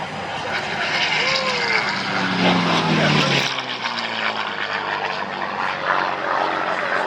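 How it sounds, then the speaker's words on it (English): A Merlin-engine propeller airplane roars past at about 350 mph, its engine drone rising and then dropping in pitch as it sweeps by, loud and continuous. "Nice high-speed pass running through here at about 350 miles an hour."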